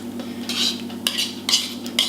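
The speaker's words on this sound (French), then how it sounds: "Je vais mélanger une première fois. Et je vais rajouter ma crème." Eggs and cream for a quiche lorraine filling are stirred in a bowl, producing repeated scraping and whisking strokes in an uneven rhythm. The strokes sound close and fairly clear over a low steady hum.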